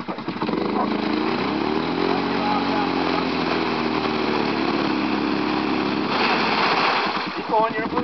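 Engine of a Polaris Prowler off-road vehicle stuck in mud, revving loud and close with a sustained rising and falling drone, voices talking over it near the end.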